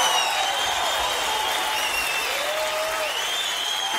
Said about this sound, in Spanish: Rojairo, Foforito, el aplauso.